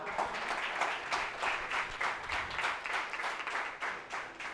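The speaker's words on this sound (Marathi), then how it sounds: "पुणेकरांसाठी नाशिककर टाळ्या वाजवतात," An audience at an award ceremony applauds in a steady, moderately loud wash of many hands clapping, sustained throughout with slight swells and no speech on top.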